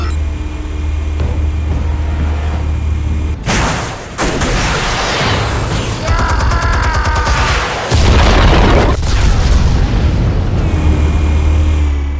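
Armed explosives detonate in the Telltale Batman game: a heavy boom erupts after a low ambient rumble, followed by rolling blasts, crackling debris and a second loud detonation that sustains a roaring, broadband roar.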